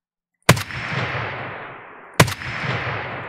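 Two loud single gunshots in the video game Escape from Tarkov, on a shoreline map at around 150 meters range, each a sharp crack followed by a long rolling echo, about two seconds apart, with no voices.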